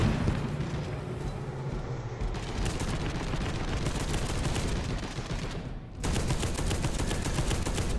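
Enemy gunfire from the Space Hulk: Deathwing video game rattles in dense, continuous automatic bursts, loud and close, with a brief lull before firing resumes just as heavily.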